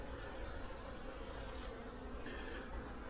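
Honeybees on a brood frame lifted from a hive split make a dense, steady buzz up close, a continuous swarm drone that holds even throughout with no voices.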